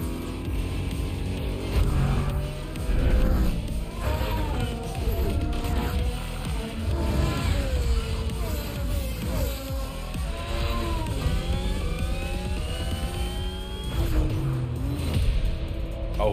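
A Red Bull RB18 Formula 1 car in the racing game The Crew Motorfest, its engine wailing continuously with rising and falling gear-shift sweeps throughout, loud and up close, with a voice talking at times underneath.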